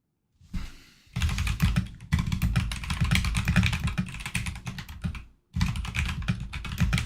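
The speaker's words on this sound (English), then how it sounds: "You guys get some keyboard ASMR." Rapid, close keyboard typing with dense clicking keystrokes in bursts, pausing briefly around one second and again near five and a half seconds before resuming.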